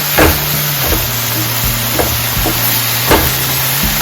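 Vegetables sizzling in a pan for an egg Maggi masala, with a steady close frying hiss and a few regular scraping knocks as they are stirred.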